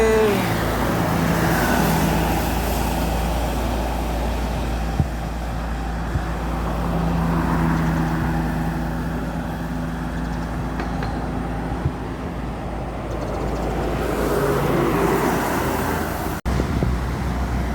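A bus rolls downhill on a road in Sumatra, its engine and road rumble holding a steady, loud, continuous drone with passing traffic noise and no talk.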